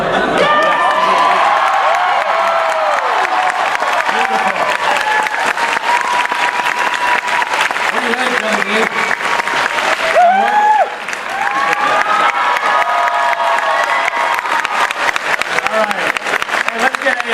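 A fan convention crowd at Emerald City Comicon applauds and cheers loudly for Billy Dee Williams, with sustained clapping, whoops and shouts throughout, a brief dip midway, and voices calling out over the din.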